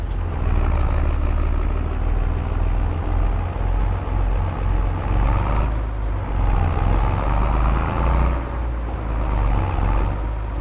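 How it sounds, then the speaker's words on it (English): Tractor engine in the video game Farming Simulator 25, a steady loud low rumble running through the whole stretch with slight swells in load, with no voices. "Love the sound of this tractor."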